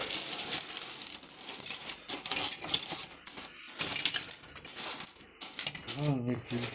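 Metal coins of various years clink and jingle continuously, bright and close, as if handled in a pile, with a brief voice near the end.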